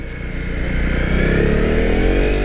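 A Honda CRF 250 Rally motorcycle on the road, its engine droning steadily and building slightly in pitch as it rides, close and loud, with no talking.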